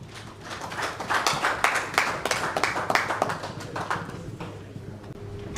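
Audience applause at a Lagos-style technology forum, MoDiTECH 2019, a sustained crowd clapping of dense overlapping claps that swells and fades over several seconds, moderately loud in a large hall.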